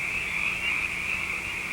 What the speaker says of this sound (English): I think you can hear the frogs croaking.